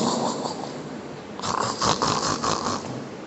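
A voice imitates the rasping snore of someone sleeping with the mouth open, giving a few rough, breathy snorts close to the microphone.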